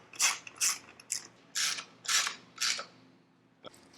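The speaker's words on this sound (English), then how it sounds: "Screw them in." Ratcheting of a hand tool while exhaust blanking plates are screwed into a Yamaha R6 motorcycle: about seven evenly spaced bursts of close mechanical clicking and creaking, then a brief final click, no talking.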